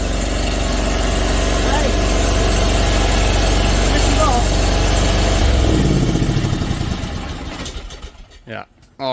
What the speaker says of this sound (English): So we got the engine running